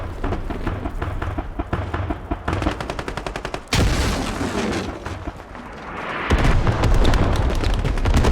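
Gunfire and RPG blasts in the military video game Squad. Rapid machine-gun bursts rattle loudly, then a heavy booming impact breaks in and rolls on, and more rattling fire returns over a thick rumble.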